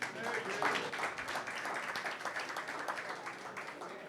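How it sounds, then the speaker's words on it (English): A conference audience at a Central Oregon pub talk applauds steadily and fairly close, the clapping sustained and dense over its full length, with some voices mixed in underneath. "how about a round of applause for Gary?"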